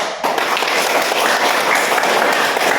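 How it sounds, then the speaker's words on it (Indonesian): Applause from a classroom group during a teaching practice session, dense, loud clapping that starts abruptly and carries on evenly throughout. "Tepuk tangan dulu."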